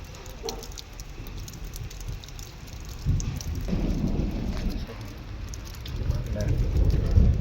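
Heavy rain in Madurai pours down as a continuous broadband hiss and low rumble that swells louder in the second half, with murmured voices underneath.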